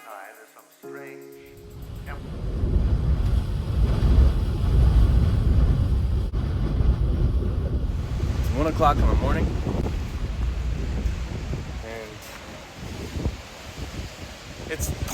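Strong 27 mph wind gusts roar and buffet the microphone in heavy, rumbling bursts at White Sands, rocking a van, with a person talking over it.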